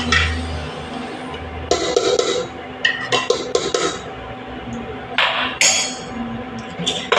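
A spoon clinks against a pressure cooker while ghee is mixed into chicken pulao, giving bursts of scraping and sharp metallic clinks in uneven clusters over a low background hum.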